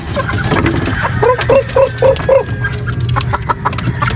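A chicken clucks close by in a quick series of short notes, with farmyard background noise and a few other bird calls around it.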